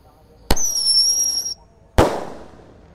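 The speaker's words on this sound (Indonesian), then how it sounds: "yang kita nyalakan di sini ada Happy Power 4. Ini pelontar mini. Sudah menyala. Siap meluncur." A Happy Power 4 mini firework launcher fires with a sharp pop and a whistling shriek for about a second, then a loud bang follows, close and punchy.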